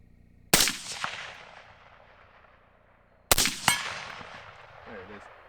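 A pistol fires at a small target 100 yards away: two sharp, loud shots about three seconds apart, each followed by a rolling outdoor echo that fades out.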